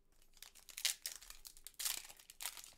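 Foil Yu-Gi-Oh Battle of Chaos booster packs being torn open by hand, a close crinkling rip in a few bursts with crackly wrapper sounds between, no talking.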